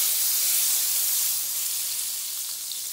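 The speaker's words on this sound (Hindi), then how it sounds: "अब मैं इस कढ़ाई में थोड़ा सा बटर लूँगी। उसे थोड़ा मेल्ट कर लेंगे।" Butter melts in a hot kadhai with a soft, continuous sizzling hiss, close and steady, easing slightly toward the end.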